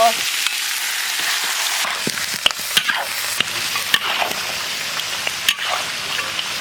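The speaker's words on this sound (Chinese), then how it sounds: "锅里来点猪油，倒入排骨炒" Pork ribs stir-frying in lard in a wok, a loud, dense hiss with intermittent clanks and scrapes of the turner against the metal.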